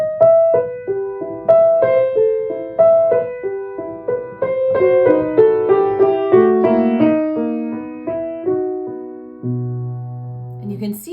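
Solo piano plays a Schumann piece from Opus 68, a right-hand melody answered by left-hand chimes, notes struck in a steady lilting rhythm that slows toward a low sustained final chord, close and clear with no talking.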